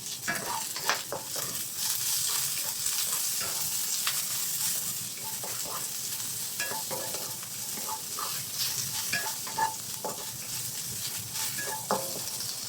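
Water spinach stir-fried with crab paste and pork, sizzling and hissing steadily in a hot pan for the whole stretch, with occasional clinks and scrapes of stirring over the constant frying.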